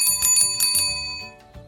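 Several vintage bicycle bells ring in quick succession, bright metallic dings with lingering shimmer, loud and close, before the ringing fades out near the end.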